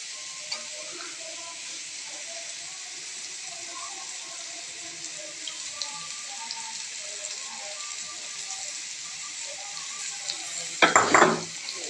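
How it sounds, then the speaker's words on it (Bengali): Capsicum and noodles stir-fry in a pan as a constant, rain-like hiss runs throughout, with a short clattering burst of stirring near the end. "নাড়াচাড়া করে ভেজে নিচ্ছে। তো এখানে দিয়ে দিচ্ছে ক্যাপসিকাম গুলো।"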